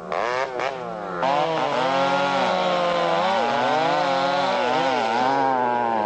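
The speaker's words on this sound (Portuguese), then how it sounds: "A serra elétrica é impiedosa com a natureza. Árvores centenárias, em poucos segundos, viram pedacinhos de madeira." A chainsaw cuts down old trees in a forest, its engine whining loud and steady throughout, with a brief revving stutter at the start before settling into a sustained high-pitched cut.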